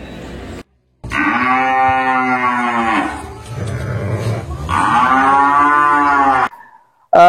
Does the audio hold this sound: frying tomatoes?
no